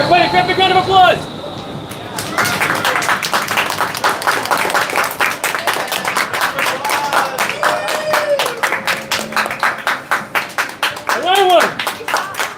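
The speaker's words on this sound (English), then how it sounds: "grab a big round of applause" Crowd of fifth-grade children at an indoor wind tunnel flight center breaking into a round of applause, dense rapid clapping that swells and lingers, with a voice speaking before it starts and brief chatter over it.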